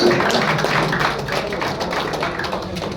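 Audience clapping during a prize draw for distributors, a continuous patter of hands at moderate level, fairly dense and steady, with faint background voices.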